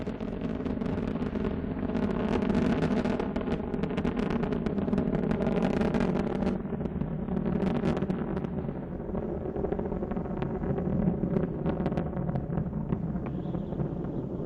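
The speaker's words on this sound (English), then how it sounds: "Three engines now throttling down as Endeavour passes through the area of maximum dynamic pressure on the vehicle in the lower atmosphere" Space Shuttle Endeavour's three main engines roar through the lower atmosphere during its final launch, a loud, continuous broadband rumble with crackling texture that holds steady throughout, heard alone.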